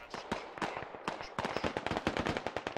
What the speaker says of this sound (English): Squad 3 shooting Carl Gustav rounds.